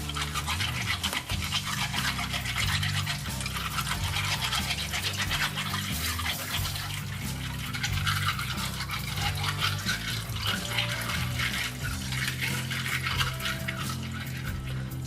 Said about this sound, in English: After that, rinse the shells well again.